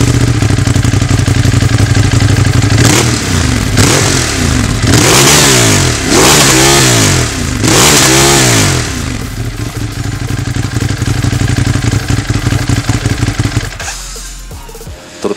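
A Ducati Monster 821 (2017) motorcycle engine revs hard in repeated rising and falling bursts, loud and close, then settles into a rough, throbbing idle before cutting off.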